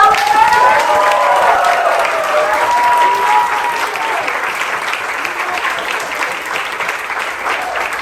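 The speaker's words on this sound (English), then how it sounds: "So let's give them a round of applause." An audience at Brown University gives community coordinators a round of applause, a dense, loud wash of clapping with some cheering and a voice at the start, fading slightly over several seconds.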